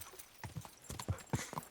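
Horse hooves clip-clop in the Kingdom Come: Deliverance video game, a quick, uneven run of close, distinct hoofbeats over faint background ambience.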